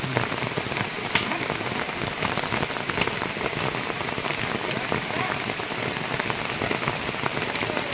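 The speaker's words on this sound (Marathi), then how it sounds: "हाडकंबीत पाऊस आलाय." Rain pours steadily onto surfaces at Hadkambi in the Konkan countryside, a dense, even patter of drops filling the whole stretch with no voices over it.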